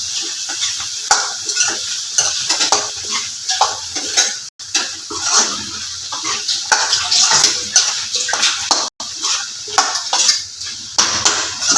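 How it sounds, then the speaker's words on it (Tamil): A spoon stirs curry masala powder through a sizzling pan for mutton liver curry, with repeated scraping and clinking strokes over a continuous fry, loud and close, with two brief breaks. "ஒரு ஸ்பூன் கறி மசால் தூள், எல்லாத்தையும் போட்டு அப்படி கிளறி விடுவோம்"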